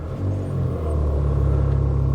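A Porsche Macan idling steadily after starting up, a low, even engine rumble heard from inside the car, close and continuous with no voices.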